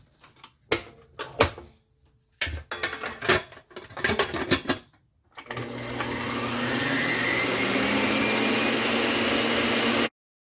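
After a few clattering knocks, an electric mixer whips egg whites with cream of tartar in a pan, a close, steady motor whir lasting about five seconds before it stops abruptly.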